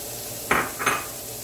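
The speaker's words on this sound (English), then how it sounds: "I've chopped up a very large onion. I'm going to add that to the pan" A very large chopped onion drops into a pot and is stirred, giving two short, clattering scrapes of utensil on cookware close by, with a quiet pause between them.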